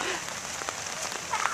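Hail falling in Burbank, a steady, close patter of small pellets striking surfaces, even and unbroken, with no talking.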